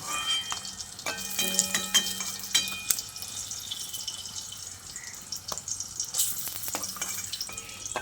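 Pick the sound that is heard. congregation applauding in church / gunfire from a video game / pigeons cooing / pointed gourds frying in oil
pointed gourds frying in oil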